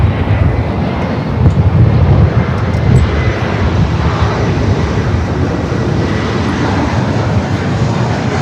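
Fixed-wing airliner roars down the runway on takeoff at Los Angeles LAX airport, a steady broad engine rumble with wind buffeting, fairly loud and sustained throughout with no voices.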